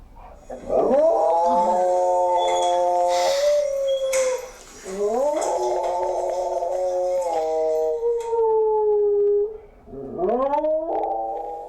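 A large dog howls in long, loud, wavering tones, three drawn-out howls close by with brief pauses between them, the voice rising into each one and sliding down at the end.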